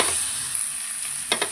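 Ginger garlic paste sautéing in a pan for crab masala gives a steady close hiss of frying, broken near the end by two short bursts of stirring, with no talk.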